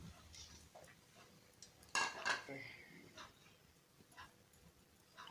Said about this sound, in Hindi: आलू मैश हो गए हैं, अब मैं इनको मिला लेती हूँ